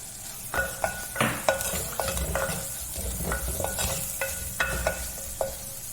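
Two chopped green chillies sizzling gently in a pan while a spoon stirs and taps against the metal in sharp scattered clinks, close and fairly quiet with no talking.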